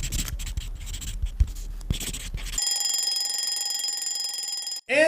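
A timer alarm goes off after a stretch of scratching and writing sounds, ringing as a steady, loud electronic beeping tone for about two seconds before cutting off abruptly.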